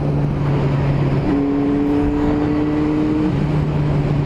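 A Honda CBR954RR FireBlade motorcycle engine on a country lane drones close and steady, its pitch stepping up as it revs and then dropping back near the end, with no voices.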